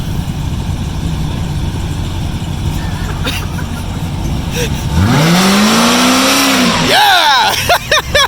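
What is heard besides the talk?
muscle car engine revving for a burnout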